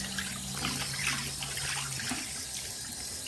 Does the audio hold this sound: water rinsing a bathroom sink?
yes